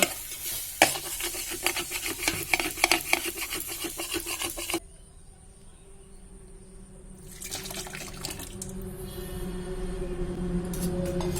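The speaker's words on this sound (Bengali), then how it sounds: "তো এখানে আমি ডালটা ঢেলে নিয়েছি এবার একটু ফুটতে দেবো" Masoor lentil dal poured into a masala in an electric kettle: a sustained wet, gurgling pour and stirring that drops away, followed by a quieter steady simmering hiss, no voices.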